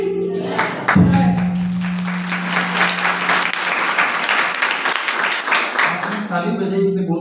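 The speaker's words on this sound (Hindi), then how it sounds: "ताली बजाई इसलिए बोल देता हूं।" Church congregation applauding at a Sunday fellowship meeting, sustained dense clapping for several seconds under a steady tone that fades near the end.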